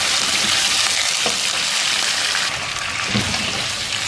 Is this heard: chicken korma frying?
yes